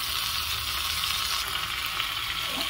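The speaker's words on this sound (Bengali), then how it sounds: "একদম গ্যাসটা সিম করে রেখেছি, মশলাটা আস্তে আস্তে করে কষিয়ে নিলাম।" Spice paste for paneer ghugni frying slowly over a low flame in a pan, a continuous close sizzle without talk.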